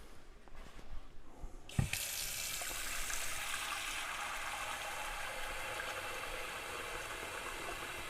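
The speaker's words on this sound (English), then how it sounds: "let me get some water to add to it" A kitchen tap is turned on and runs steadily, giving a constant loud rush of water into a vessel to add to a salmon gumbo being cooked, after a few quieter clunks.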